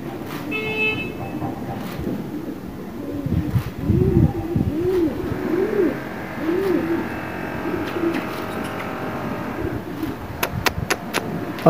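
Pigeons coo in a series of soft, rolling, repeated calls that cluster in the middle, close by, over steady outdoor background noise with a few sharp clicks near the end.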